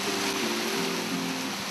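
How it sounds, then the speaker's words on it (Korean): A mountain waterfall at the foot of a steep slope gives off a steady, dense rushing roar that holds evenly throughout, with no voices over it. "시원한 폭포가 이들을 맞는다"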